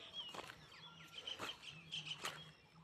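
Small birds chirping near a ripening wheat field beside a house, faint short tweets in a few scattered bursts over quiet outdoor background.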